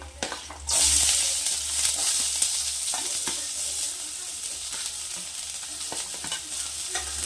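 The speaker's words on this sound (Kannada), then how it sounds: "ಇವಾಗ ಶುಂಠಿ ಹಾಕ್ತಾ ಇದ್ದೀನಿ. ಅದರ ನಂತರ ಈರುಳ್ಳಿ ಹಾಕ್ತಿದ್ದೀನಿ." Ginger and then onion hit hot oil in a pan, setting off a loud, continuous sizzle with stirring scrapes and a few light knocks, close up and with no speech.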